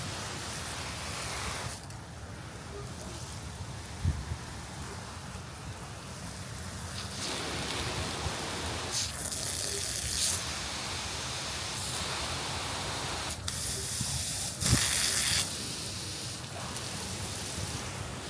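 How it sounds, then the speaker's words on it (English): A stainless steel garden hose nozzle sprays water in a steady hiss like rain, changing in intensity and texture as it switches between mist, down spray, straight spray and stronger spray. "Mist, down spray, straight spray, stronger spray."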